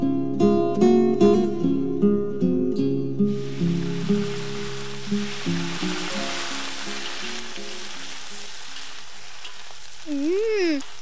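Vegetables stir-fried in a wok give off a steady, close hiss and sizzle that starts after a few seconds of music and continues to the end, with a brief whistling tone near the finish.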